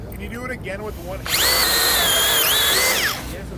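A power drill with a self-feed dual cutting head bit bores into wood, a loud close whine rising and bogging as it cuts for about two seconds, with faint voices before it starts.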